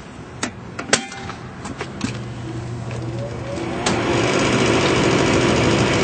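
An inducer motor in a York rooftop packaged AC unit with a heating furnace. A few sharp clicks come first, then the motor spins up into a steady, close whirring hum that grows louder and holds.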